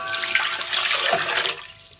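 Hot water pours steadily in a short rushing splash for about a second and a half, then trails off quickly.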